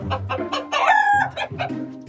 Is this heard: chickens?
yes